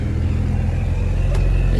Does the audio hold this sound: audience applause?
no